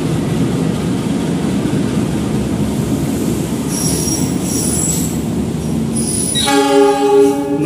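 The Jayakarta passenger train, hauled by a CC 206 locomotive, rolls through a large Indonesian station with a loud continuous rumble and squealing wheels, ending in a blaring multi-tone horn close by.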